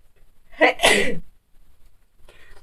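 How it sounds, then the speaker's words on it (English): A single loud, close sneeze with a sharp intake and burst, followed by quiet and a faint rustle. "I'm going to sneeze here."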